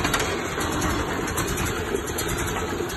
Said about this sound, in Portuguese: Neutral, funcionamento do motor.